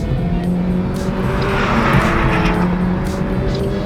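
A 2024 Acura Integra Type S accelerates hard in a drag race, its engine roaring loud and continuous with a rising broadband rush and faint tire noise.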